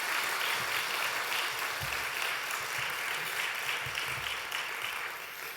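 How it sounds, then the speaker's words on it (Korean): A church congregation at a Korean district New Year revival gathering gives dense, steady applause after a men's choir's praise, a continuous roomful of clapping that tapers slightly at the end. "오늘 격려의 박수 또 하나님께 영광의 박수 드리겠습니다."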